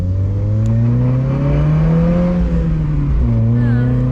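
A Mazda Miata engine revs up under full throttle, a loud, close, climbing drone with a brief dip at a gear change before rising again, with talking faintly mixed in.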